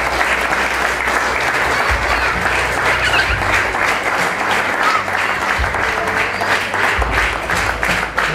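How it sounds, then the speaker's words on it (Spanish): Guests at a quinceañera celebration break into steady, dense applause that continues without a break, with a low hum underneath. "Un aplauso para este Señor"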